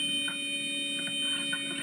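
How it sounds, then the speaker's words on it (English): An aircraft alarm on a plane going down: a steady electronic tone holds throughout, with short chirping pulses repeating at irregular intervals over it, loud and close, with no voices. "Suddenly, the alarm sounds."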